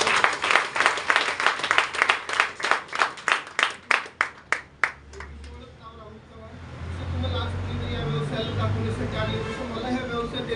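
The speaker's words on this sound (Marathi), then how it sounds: "त्यांच्यासाठी जोरदार टाळ्या" An audience at a speech event in Sangli claps in a loud, steady rhythm for about five seconds. The clapping then fades into low, rumbling background noise with faint murmuring.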